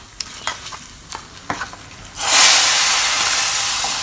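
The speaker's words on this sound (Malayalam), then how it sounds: "നന്നായിട്ട് മിക്സ് ചെയ്തിട്ട് നമുക്കിത് കറിയിലേക്ക് ഒഴിച്ചു കൊടുക്കാം" A Kashmiri chili mixture poured into a cucumber buttermilk curry (moru curry): a few light clicks and taps, then a sudden loud, sustained sizzling hiss that slowly fades.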